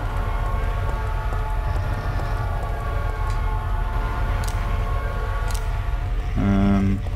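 A train rumbles past in Silent Hill 3 on the PS2, a sustained rolling roar with metallic tones. A loud horn-like blast sounds near the end.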